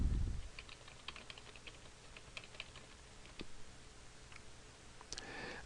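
Quiet computer keyboard typing while entering text into an Excel spreadsheet, with scattered light key clicks and taps at an irregular pace, faint and close, ending in a brief louder rattle of keys.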